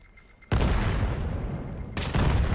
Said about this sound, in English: Nice nade toss.